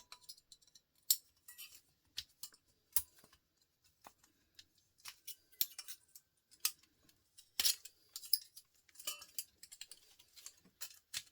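Tin snips cutting aluminium sheet, giving a series of sharp, irregular snipping clicks and crisp metallic bursts close by, with quiet gaps between cuts and no talking.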